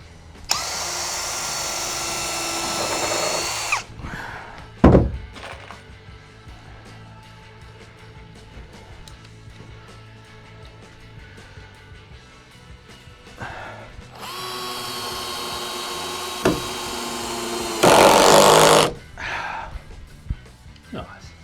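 A power drill drives screws into the wooden wall of a square drop camper, with two long whirring runs and a shorter one at close range, separated by clunks and quieter handling noise.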